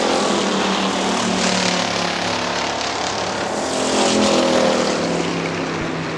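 Factory Stock cars race at Hartford Speedway Park in 2002, a loud, continuous, close engine roar with several motors blending together. The roar swells slightly past the midpoint and never drops away.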